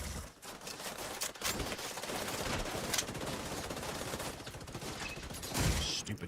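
Turret gunfire in the video game The Division 2, sustained rapid automatic bursts with sharp individual shots and a heavy thump near the end.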